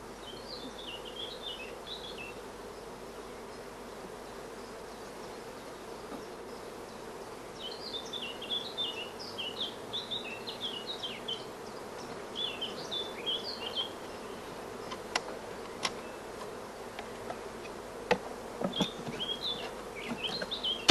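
Honey bees buzz steadily around open hive frames during hive work, a close, dense hum with higher buzzing swells and occasional sharp clicks and taps, no voices.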